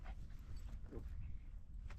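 A dog pants and whimpers softly at close range on a walk at a national wildlife refuge in the Texas Panhandle, with quick breathy pants and a few thin whines over quiet outdoor background.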